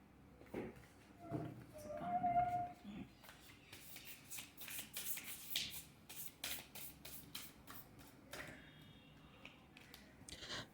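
Oracle cards are shuffled in a tarot reading, with a run of soft riffling and flicking bursts that grow denser toward the end, close and moderately quiet.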